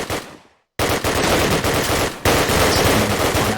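Loud automatic bursts from an MP44 in a Call of Duty match: rapid fire cuts off, leaves a brief silence, then resumes in long sustained volleys.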